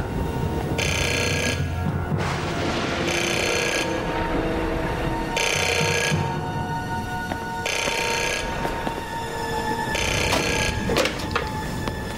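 An old-fashioned telephone bell rings in regular bursts, five rings with short pauses between them, loud and close over a low room hum.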